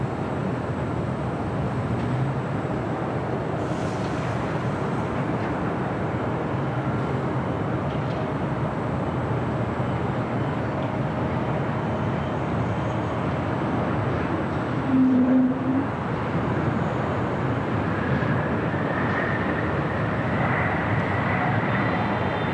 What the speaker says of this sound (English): Breeze Airways Airbus A220-300. First arrival of the stream at 25 left.